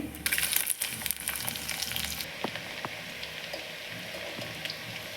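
Onion with fennel seeds and two green chillies fries in a pan for a rice pulao, a bright crackling sizzle at first that settles into a softer hiss with a few light taps.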